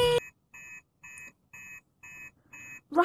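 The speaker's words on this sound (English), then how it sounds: "Righto, that's the master alarm." A Fireman Sam toy sounds its master alarm: a loud electronic tone bursts briefly, then a bright beeping pattern repeats six times at an even pace, each pulse short and alike.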